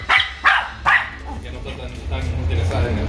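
Dogs playing indoors give three sharp, close barks in quick succession, followed by fainter yips as a person starts talking.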